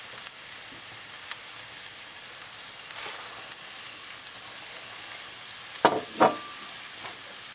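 Rice and asparagus sautéing in a pan for risotto, a faint steady sizzle with a few brief sharp scrapes of stirring near the end, close and quiet.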